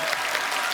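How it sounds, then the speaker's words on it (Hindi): A brief burst of dense studio audience applause on a Hindi comedy talk show, many hands clapping loudly and evenly with no break. "जोरदार तालियां नानी की आंखों के लिए"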